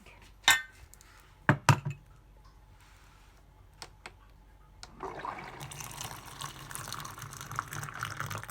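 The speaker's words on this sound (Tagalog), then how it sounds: "lagyan natin ng tubig." Water is poured into a glass at a breakfast table, a soft continuous trickle building after a few sharp clinks and taps of glassware earlier on.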